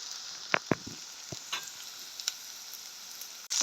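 Onions sautéing in a pan, heard as a faint, low sizzle with a few sharp scraping stirs and taps, close but quiet.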